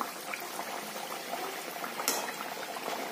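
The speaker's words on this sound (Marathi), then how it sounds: "आपण त्या पण तळून घेऊया." Puris sizzle and bubble in hot frying oil, a steady dense crackle that holds close and constant with a brief louder burst midway.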